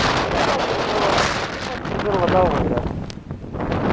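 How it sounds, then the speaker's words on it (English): A strong blizzard wind of about 50 mph blows across a mountain cut at Magalloway in late March, buffeting the microphone in heavy gusts while someone speaks briefly up close. "It's about a 50-mile-an-hour wind."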